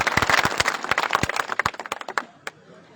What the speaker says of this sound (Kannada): ಸಮಸ್ತ ಅನ್ನದಾತ ಬಳಗದಿಂದ ಜೋರಾಗಿ ಚಪ್ಪಾಳೆ ಮೂಲಕ